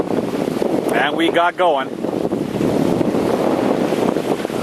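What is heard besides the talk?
wind and ocean waves at an anchored sailboat, eastern Bahamas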